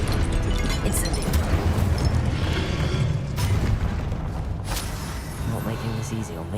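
Incendio fire spell in Hogwarts Legacy: a dense, loud, continuous roaring burst of flame and booming effects, with brief sharper flares layered over the sustained rush throughout.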